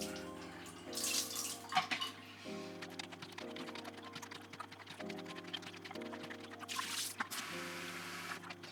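Tap water runs into a film developing tank for rinsing in a small apartment, a soft continuous rush broken by intermittent bursts of hiss, with quiet clicking and tapping throughout, faint and close, no talk.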